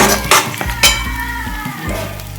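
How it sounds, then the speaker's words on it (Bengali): A ground pea filling fries in a little white oil with asafoetida, ginger, green chilli and fennel: close, loud spatula knocks and scrapes against the pan over a low sizzle. "একটুখানি সাদা তেলে হিং দিয়ে পুরটাকে বানাচ্ছি"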